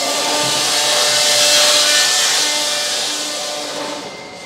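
A 2-in-1 step beam and P beam roll forming machine runs steadily, giving a loud, continuous metallic whine and hum with tonal ringing that swells slightly and then eases off.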